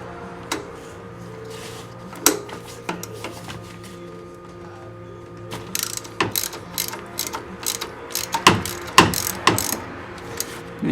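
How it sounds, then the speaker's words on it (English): A ratchet wrench works loose bolts on an LML Duramax engine during an EGR delete, with bursts of rapid clicking pawl ratchets, louder and denser toward the end, plus occasional metallic knocks. "Just ratchet on here."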